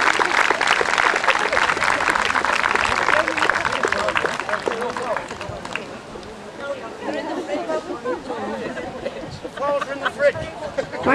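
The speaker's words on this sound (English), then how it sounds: "Big round of applause for Hannah" Audience applause at a Whitley Rose Queen event, a dense, loud burst of clapping for several seconds that thins out into scattered claps and crowd chatter.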